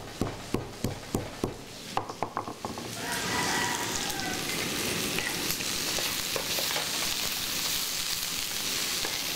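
Ginger and galangal frying in a pan for pork in sweet soy sauce: a few sharp stirring taps at first, then a loud, steady sizzle filling the rest, close up with no talking.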